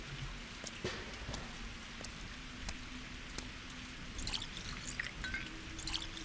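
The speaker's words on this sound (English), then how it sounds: "I always like rain effects." Steady rain in the video game Pathologic 2, falling over a town with puddles everywhere, a continuous soft hiss with scattered drips and patters throughout, no voices.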